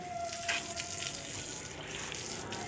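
Water poured or gushing over an animal being bathed while it eats, a soft continuous splashing and trickling at moderate distance, faint and steady.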